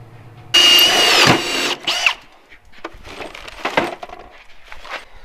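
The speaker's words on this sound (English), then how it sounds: "Now we've got to drill holes through the center of this bad boy too." Power drill boring through a trolling motor mount on a boat, a loud high whine burst for about a second, then a shorter spin followed by scattered clinks and handling noises.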